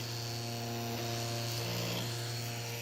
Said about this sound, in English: So step one, I'm printing a propeller.